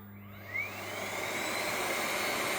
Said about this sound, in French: je vais allumer un aspirateur que j'ai juste à côté